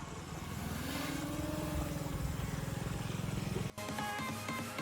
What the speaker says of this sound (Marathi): आज ड्रोन तुम्हारा भाई उड़ाएगा